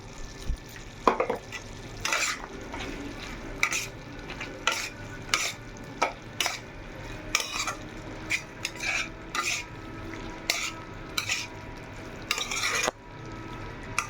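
Grated coconut being stir-fried in a pan for a vegetarian dish, with repeated scraping stirs of a spatula and a steady low sizzle, about a dozen strokes spread unevenly through the stretch, close and moderately loud.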